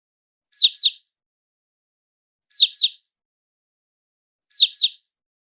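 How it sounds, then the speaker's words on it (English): A small chick chirps in three evenly spaced double peeps, each pair short and bright, with silence between them. "Chick."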